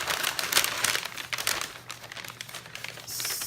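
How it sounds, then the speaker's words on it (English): Packaging of a card-making kit being opened, with close crinkling and crumpling of plastic and paper in irregular bursts, fairly quiet throughout. "we're going to open the October card kit"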